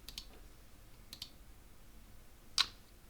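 A computer mouse clicks a few times, quietly and close: paired light clicks, then another pair, then a single sharper click near the end, over faint room hiss.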